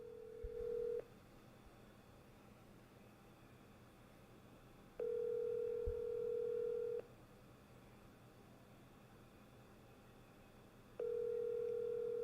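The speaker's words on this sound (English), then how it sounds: "Let me try to make a phone call, because this is somebody who would know." An outgoing telephone call rings out unanswered: three steady ringback tones of about two seconds each, separated by long silent gaps, clear and alone with no talk.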